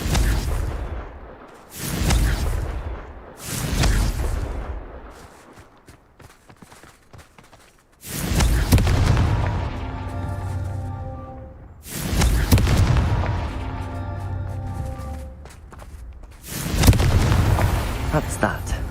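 Explosive blast spell in a wizarding adventure game, several loud booming bursts separated by short quiet gaps, some trailing into rumbling debris, with a voice occasionally speaking.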